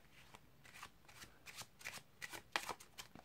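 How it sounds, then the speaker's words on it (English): Playing cards are riffled in a series of quick, soft shuffling bursts during a card trick, fairly quiet and close up, with brief pauses between them. "if you want to you can do another shuffle."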